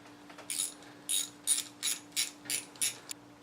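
A ratchet tightens studs back down on a VW GTI during a spark plug job, making seven crisp, evenly spaced clicking bursts close up, with no voice.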